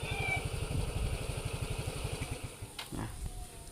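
Motorcycle engine idles nearby in a steady, even putter, then cuts out near the end, followed by a couple of brief clicks and faint background sound.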